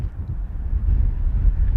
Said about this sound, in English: Big gust wind now.